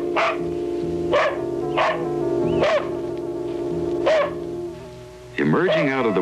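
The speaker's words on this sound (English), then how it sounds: "she was distracted by the incessant barking of her dog." A dog barks incessantly, six sharp barks at a steady rhythm over a sustained tonal hum, then a final wavering yelp-like burst near the end, loud and close.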